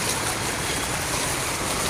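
Fast floodwater rushes along a flooded road during heavy rain, a dense, constant roar with no pauses that fills the short stretch.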